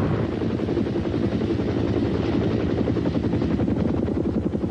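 A Sikorsky H-19 utility helicopter in flight, its rotor beating in a loud, rapid and continuous thump over a steady engine drone, with no voices.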